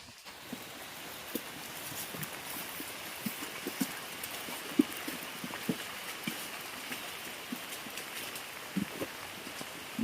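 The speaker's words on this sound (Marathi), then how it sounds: "इतका जबरदस्त पाऊस पडतोय की बोलायचंच नाही हे बघा पाणी जे आता साईडने वाहत आहे नुसतं" Heavy monsoon rain pours beside a road near a dam, with runoff water streaming along the roadside; a steady, close, broadband hiss with scattered sharp drips and splashes throughout, and no talking.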